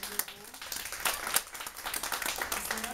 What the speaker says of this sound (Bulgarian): Аплодисменти за Ватори Димо